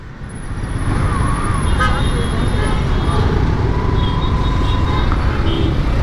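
Loud, continuous roar of Chennai road traffic up close, engines rumbling as vehicles pass, with a thin high whine early on.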